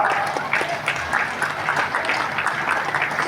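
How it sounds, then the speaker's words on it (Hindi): Mothers and sisters in a large rally crowd at Beohari applaud, a dense, continuous patter of many hands clapping together, steady and fairly loud, with no speech over it. "माताएं बहनें कैसे ताली बजाती"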